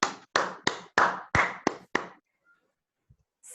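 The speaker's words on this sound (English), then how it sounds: "A big round of applause to everyone." Seven loud, separate hand claps ring out in quick succession in a reverberant room at a Toastmasters meeting, each decaying before the next, then near silence.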